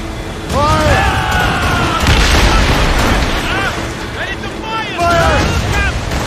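Loud, dense booming cannon fire from a ship's broadside in the naval combat of Assassin's Creed Rogue, rolling blasts layered over continuous battle noise, with shouting voices heard throughout.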